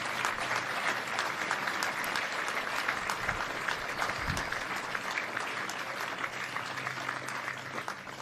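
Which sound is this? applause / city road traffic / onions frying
applause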